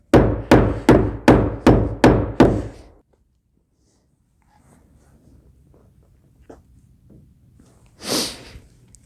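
A hammer drives nail-gun nails flat into wood while a solar power shed roof is assembled: six loud, evenly spaced strikes in quick succession, then near-silence with faint handling noises and one brief scraping burst near the end.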